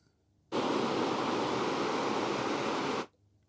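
Ocean-wave white noise from Apple's built-in noise generator: a smooth, steady rush of broadband surf-like hiss that starts abruptly, holds at an even loudness for about two and a half seconds, then cuts off cleanly.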